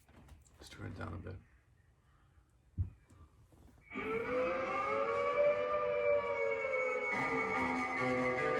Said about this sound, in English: I guess it's supposed to be like a siren of a fire truck.